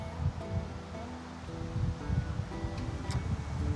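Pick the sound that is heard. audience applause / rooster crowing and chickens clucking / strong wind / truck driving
strong wind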